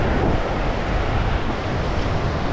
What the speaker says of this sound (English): Jeez, when do the waves get this big?